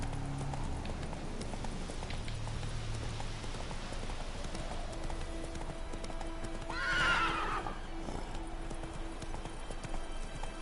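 The horse Roach trotting in The Witcher 3: Wild Hunt, steady hoof clip-clop close by with a loud neigh near the middle.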